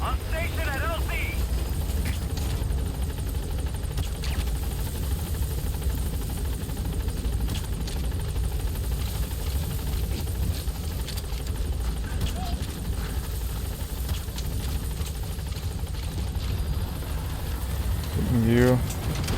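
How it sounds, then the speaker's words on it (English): A Metal Gear Solid V support helicopter holds a steady rotor and engine drone at the landing zone in-game, droning loudly throughout. "Support helicopter has arrived."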